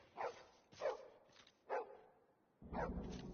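A dog in the video game The Division 2 gives four sharp barks at uneven intervals, moderately close, with a low rumbling background rising toward the end.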